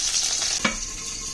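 Hot oil spatters and sizzles steadily in a pan as spices and curry leaves fry for a masala vegetable dish, with one sharp pop midway; close and loud, no talking.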